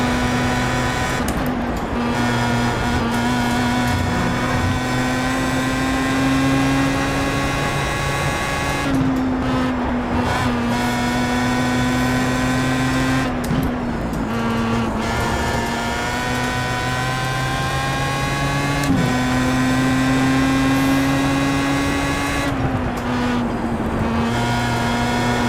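A Pro Mazda open-wheel race car laps Brands Hatch with a loud, continuous engine drone that rises through the gears, drops sharply at each upshift and lift, and repeats in a steady cycle, heard close from the car.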